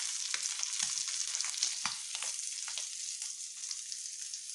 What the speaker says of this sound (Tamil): இந்த எண்ணெயிலே போதுங்க, நம்மளுக்கு அத்தனை மீனும் பொரிச்சிடலாம்.